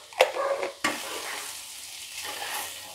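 Potato samosa stuffing fries in a pan with garam masala, a spatula scraping and stirring in two sharp strokes, then a soft steady sizzle close by with no talking.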